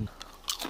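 Someone crunches into a crisp buckwheat galette, giving a couple of brief, soft, close crunching bites with no speech.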